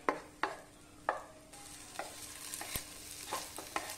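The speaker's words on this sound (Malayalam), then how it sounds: "ഈ കപ്പ ഒന്ന് വഴറ്റിയതിന് ശേഷം നമുക്ക് കോരിയെടുക്കുക കേട്ടോ." Tapioca being sautéed in a pan gives a faint sizzle, broken by repeated scraping and clinking strokes of a spoon stirring at an uneven pace, close by with no talking.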